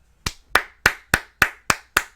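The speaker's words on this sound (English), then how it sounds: "golf clap." One person gives a slow, sarcastic golf clap: seven crisp, evenly spaced hand claps, close and alone with no other sound.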